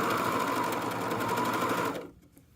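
A serger overlocker runs steadily at speed as it sews a hoodie hem, a dense continuous whirring buzz that stops abruptly near the end, leaving near silence.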